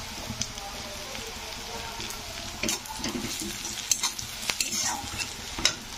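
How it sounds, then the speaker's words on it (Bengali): Curry leaves dropped into browned fried onions for a mango fish curry, giving a steady close sizzle with scraping stir strokes and a few sharp pops, no talk. "তো আমি এরপরে দিয়ে দেবো কারি পাতাগুলো।"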